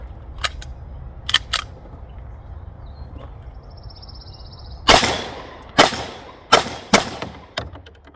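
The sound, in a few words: gunshots from an STI Grandmaster pistol at the range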